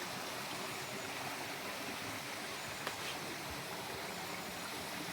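Hot spring water pours steadily into a private rental bath at a ryokan in Nishiwaga, Iwate, making a continuous close rushing, splashing flow with no pauses.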